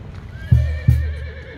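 Horses close by, with two sharp, heavy thuds of hooves a moment apart, followed by a faint, fading tail of sound.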